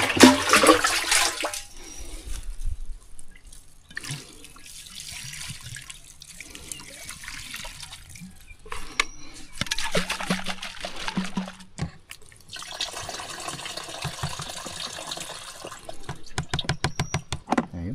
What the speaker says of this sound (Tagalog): Saka lagyan natin ng konting tubig yan.